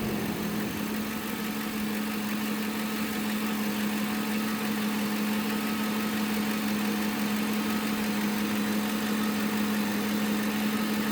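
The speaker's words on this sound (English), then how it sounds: "the fan just kicked on for cooling the engine." A Flex-a-lite electric cooling fan runs steadily in a 2003 Ford F150 with a 5.4 engine, giving a constant loud whir and hum with the engine idling beneath it.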